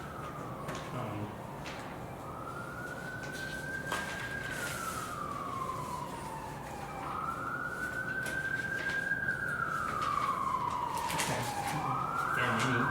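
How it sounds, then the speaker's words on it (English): An ambulance siren passes outside, its wailing tone rising and falling in long sweeps that grow slightly louder toward the end, steady under background room noise with a brief spoken word. "there's an ambulance."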